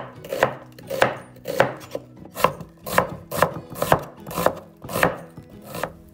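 An onion chopped with a knife on a cutting board, about eleven crisp evenly spaced thuds in a steady rhythm, close and clear with no talk.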